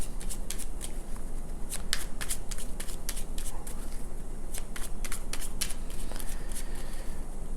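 Tarot cards are riffled and shuffled by hand in a steady run of close, crisp flutters and slaps with brief pauses, no voice over them.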